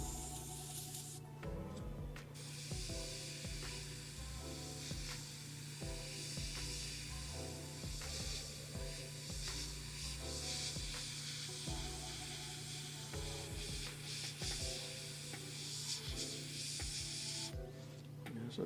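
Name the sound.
Mobius airbrush spraying paint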